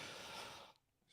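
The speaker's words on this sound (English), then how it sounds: "I had to cough." A single short, breathy cough from a man hosting a live football phone-in show, faint and isolated, trailing off into quiet.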